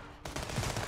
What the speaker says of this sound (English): Is someone firing from over there?